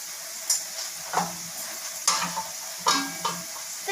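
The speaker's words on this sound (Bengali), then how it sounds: "একটুখানি আমরা জোর আঁচ করে আলুটা ভাজবো" Potatoes fried with salt and a little turmeric in a pan over high heat, a quiet steady sizzle broken by several short scraping stirs; no voices.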